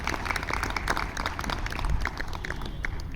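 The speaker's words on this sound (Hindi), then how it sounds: "तालियां बुलाओ आप सभी।" Audience applause at a retirement farewell ceremony, dense scattered clapping from many hands, moderately near and steady for a few seconds with no talking over it.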